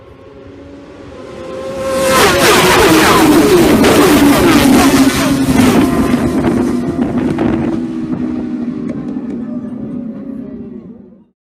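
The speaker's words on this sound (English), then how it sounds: "The rest of the large field of Superbikes charge through" Superbike motorcycles charging away at the 2019 Southern 100 senior road race on the Isle of Man. A loud engine roar swells in about two seconds and holds as a sustained, wind-buffeted pack of bikes, then tails off slightly.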